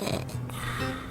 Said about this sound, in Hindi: आपको सिर्फ 2 तरह के खर्राटे पता होंगे।